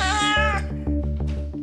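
A 12-year-old cat meows at the veterinary clinic, one drawn-out, close and fairly loud meow, with a steady rhythmic mechanical pulsing running underneath.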